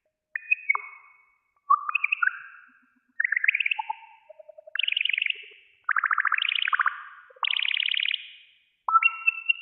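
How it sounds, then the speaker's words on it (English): Synthesized bird song from a live coding performance: bright electronic chirps and warbling trills in short separated phrases, clean and clear against silence. "Oh, what a beautiful bird song."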